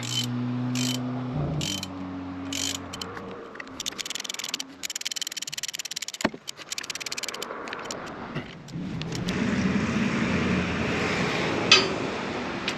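A ratchet wrench clicks in quick bursts as bolts are torqued down during a forklift rebuild, with mechanical rattling and a sharp clack midway, ending in a louder rough whir.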